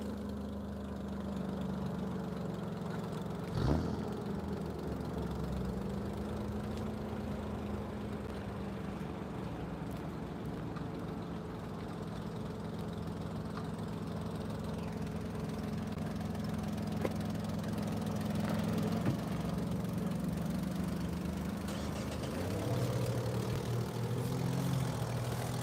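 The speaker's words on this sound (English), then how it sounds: "All the vehicles are leaving." Several vehicles idle and pull away from a property during a search, a steady low engine rumble with a passing swell partway through, heard from nearby with no talk.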